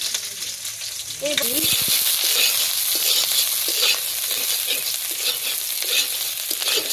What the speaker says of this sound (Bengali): প্রথম আমি ভাজি করুম গাজরের লিগে কাঁচা মরিচ পেঁয়াজ দিয়ে দিলাম